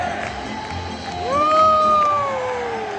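An arena crowd at an NHL hockey game cheering a Minnesota Wild goal against the Calgary Flames, a roaring swell of voices rising with a loud whistle-like whoop carrying over the noise.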